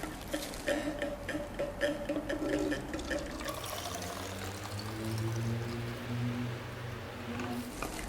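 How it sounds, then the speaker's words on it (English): Red velvet milk tea is poured into bottles, a steady liquid trickle and splash with a rising tone as each bottle fills, preceded by light ticking clinks. "Now we're going to pour into our bottles here"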